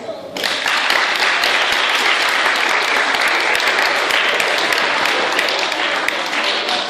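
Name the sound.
audience applause at a school event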